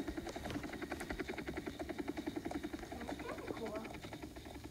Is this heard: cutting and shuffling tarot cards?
no